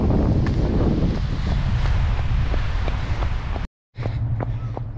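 A strong headwind buffets the microphone of a runner on a marathon training run, giving a loud, rough roar. Faint rhythmic footfalls sound beneath it, and the sound cuts out briefly near the end before resuming.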